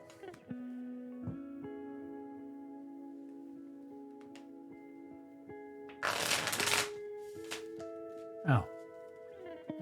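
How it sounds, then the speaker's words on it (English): Tarot cards are riffled and shuffled in two quick crisp bursts over a low steady electronic hum, close to the microphone, with no talking. "Don't mind me, I'm just shuffling."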